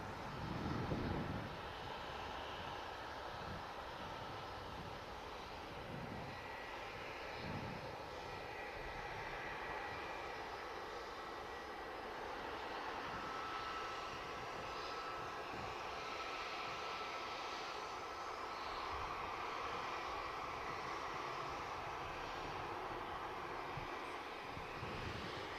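Boeing Dreamliner touching down at Manchester Airport, a continuous, even engine rumble sustained throughout, distant and unbroken.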